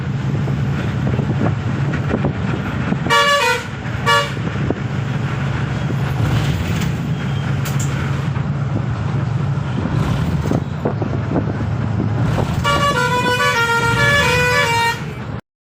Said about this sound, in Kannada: ಬಸ್ ಸೌಂಡ್ಗೆ ಕಿವೆ ಎಲ್ಲ ಗುಯ್ಗುಡ್ತಾ ಇದೆ.